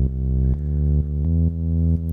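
Simple synth bass from FL Studio's Mini Synth plugin: a sustained, buzzy low tone that changes pitch every half second or so in a steady pattern, loud and alone with no voices.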